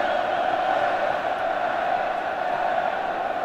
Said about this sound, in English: And listen as the crowd prepare to welcome the Welsh side.